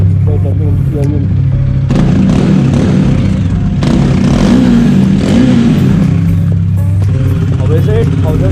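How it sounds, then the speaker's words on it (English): A Bajaj Dominar 400 motorcycle engine rumbles and revs in short bursts during off-road riding, while a person talks loudly over it throughout. "Look at my sound, bike sound."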